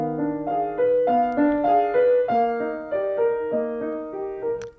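Solo piano playing a lyrical romantic arietta without the sustain pedal, so each note stops short and the chords sound detached. The phrase is moderately loud and close, with a steady rhythmic pulse and no voices.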